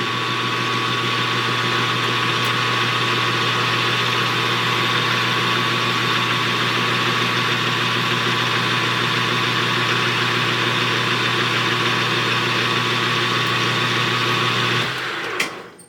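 A metal lathe runs on power feed with a steady, even hum and whine that holds for about fifteen seconds, then stops abruptly at the end, close and loud with no talk.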